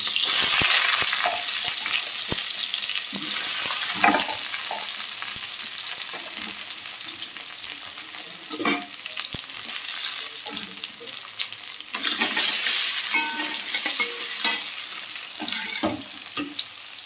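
Potato pieces sizzle and crackle in hot oil in a wok, a steady close frying hiss with periodic bursts and scrapes of stirring throughout.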